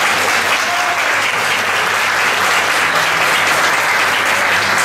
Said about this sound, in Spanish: Un aplauso al Rey de Reyes.